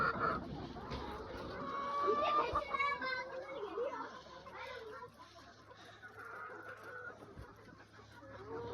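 Chickens cluck and chatter close by in a busy barnyard, with overlapping bird calls and some voices mixed in.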